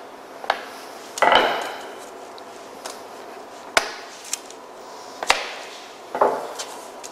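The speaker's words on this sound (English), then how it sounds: "I'm just going to roll off the excess using a rolling pin." A wooden rolling pin is pressed and rolled across a pastry-lined tart ring to trim the excess for a chocolate ganache tart in a cookery school kitchen, giving close, sparse knocks and short scraping rolls with no talk.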